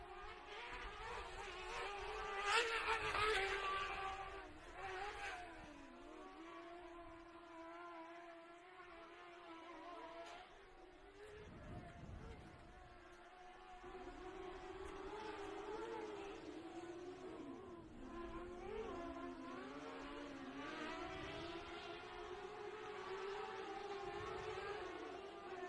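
Weller Racing SR1 UTVs race around an off-road short course track, their engines whining and rising and falling in pitch at a distance, layered and steady, with a burst of louder noise partway through.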